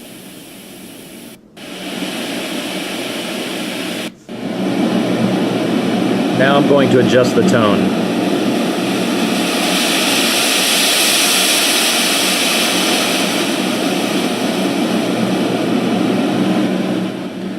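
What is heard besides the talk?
HoMedics Deep Sleep sound machine playing white noise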